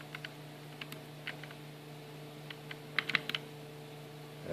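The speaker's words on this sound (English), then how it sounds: "We try enter. Double click enter." Soft, sparse clicks from buttons pressed on a Beaglebone single-board computer in a 3D-printed case, single presses at first and then a tighter cluster of quick double clicks over a steady electronic hum.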